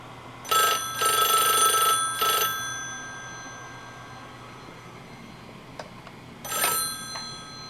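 A party-line telephone bell rings loud and close: a short burst, a longer one and another short burst, then a pause with faint clicks before another ring starts near the end.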